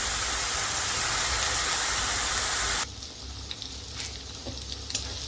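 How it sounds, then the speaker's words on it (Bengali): Onion and garlic paste fries loudly in a pan and is stirred, with a dense, steady sizzle. The sizzle drops away abruptly to quieter scraping and occasional soft crackles. "পেঁয়াজ আর রসুন বাটাটা দিয়ে দিতে হবে, আর এইভাবে একটু নাড়াচাড়া করতে হবে। কাঁচা গন্ধটা যতক্ষণ না যায় একটু ভেজে নিতে হবে।"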